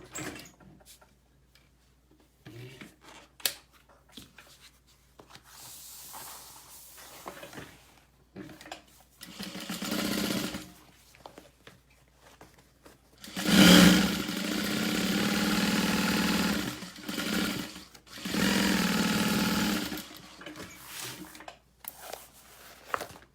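A sewing machine stitching through a vinyl tote bag, running in two sustained bursts with a hollow whirring drone, between quieter stretches of handling, clicks and fabric shuffling.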